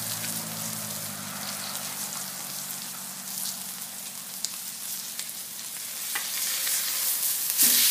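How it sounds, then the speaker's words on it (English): A standing rib roast sizzles and crackles on a hot Blackstone flat-top griddle, a steady close hiss of searing fat that continues without talk and swells slightly toward the end. "Oh yeah, look at the sizzle."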